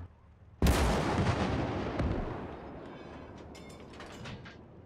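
A single loud artillery blast in a World War II North African desert battle game hits sharply, then rolls off into a long, fading rumble, with faint mechanical clatter trailing near the end.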